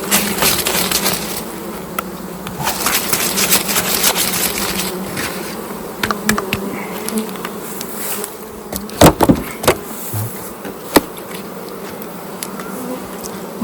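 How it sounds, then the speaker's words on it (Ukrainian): Honeybees buzz steadily while being blown off honey frames at a mobile apiary on a trailer, a dense insect drone throughout with a few sharp knocks and thumps near the end. "А поки що здуваємо бджіл."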